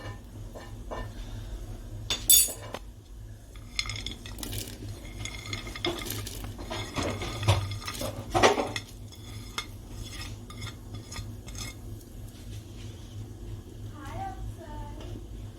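A spoon stirs dry fruits into rice kheer in a metal pot, with scraping, clinks and knocks against the pot's sides, some louder taps, and faint background noise.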